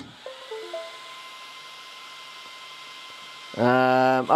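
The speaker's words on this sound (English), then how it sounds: "I will turn on the machine." A laser engraving machine fitted with a Mecpow rotary roller is switched on. Short stepped beeps sound over a low steady hum, then a loud, close whirring whine starts and runs to the end.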